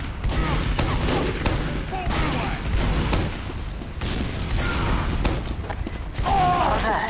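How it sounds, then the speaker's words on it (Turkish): Weapon projectiles bursting in mid-air in the game Team Fortress 2, a dense run of loud explosive booms and gunfire bursts in close succession, with game sound effects and a voice talking underneath. "Havadan ve havada patlıyor."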